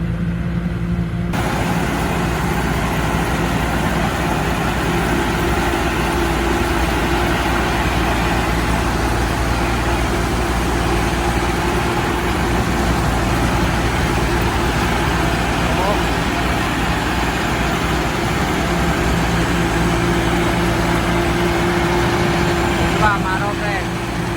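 A rice combine harvester's engine drones steadily from a distance in a paddy field, a constant low mechanical rumble that holds through the whole stretch without a clear rise as it approaches.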